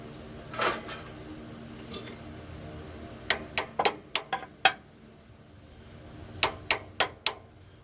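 Sharp metallic taps ring out in quick bursts as a hammer drives a pilot bearing into a 1979 Ford F100, a rapid run of strikes, a pause, then another short series of bright clinks.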